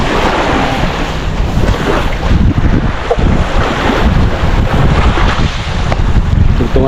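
Loud wind buffets the microphone on a boat at sea, with constant rushing and splashing of waves under it and no talk.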